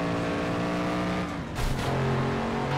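A race car engine in the FlatOut 2 video game drones at a steady high pitch, dips briefly, then returns with a surge and a brief burst of noise like a crash or skid.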